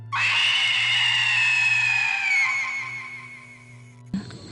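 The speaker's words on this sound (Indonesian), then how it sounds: "Tiba-tiba terdengar suara teriakan dari salah satu rumah tetangga kami." A woman lets out one long, loud, high-pitched scream that holds for about four seconds and slowly fades, followed by a brief thump.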